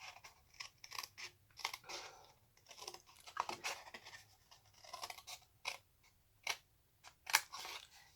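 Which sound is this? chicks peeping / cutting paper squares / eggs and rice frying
cutting paper squares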